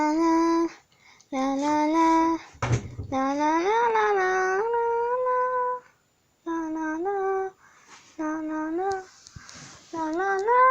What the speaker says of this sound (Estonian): See oli ka koer.